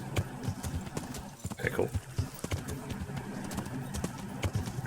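Horse hooves clip-clop in a steady walking rhythm in the medieval video game Kingdom Come Deliverance, with someone talking over the hoofbeats.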